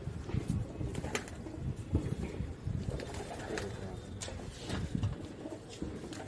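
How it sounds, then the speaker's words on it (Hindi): Pigeons coo on a rooftop terrace, repeated soft throaty calls up close, with someone speaking at times and some rustling nearby. "ये हमारा मंदिर वाला कबूतर"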